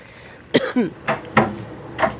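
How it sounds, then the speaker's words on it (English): Several separate coughs from a person with cystic fibrosis spaced out over a couple of seconds, close by and moderately loud, with quiet pauses between them, in a hospital room. "That's me coughing."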